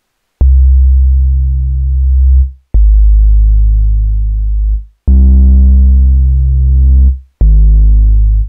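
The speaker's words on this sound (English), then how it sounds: "I'm gonna start with a simple sine wave, which is often what you hear in 808s." Deep, booming bass tones play in four long sustained notes, each starting with a sharp click and holding steadily, some with a buzzier, distorted edge.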